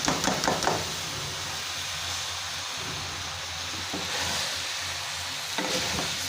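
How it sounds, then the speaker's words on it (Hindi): Macaroni tipped into a pan of masala, with knocking and scraping at the start and end and a continuous frying sizzle in between. "और अब हम इसके अंदर डालेंगे मकरोनी।"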